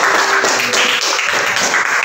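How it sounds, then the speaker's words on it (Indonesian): A short burst of loud, close clapping from a small group of students in a classroom, dense and continuous throughout. "tepuk tangan"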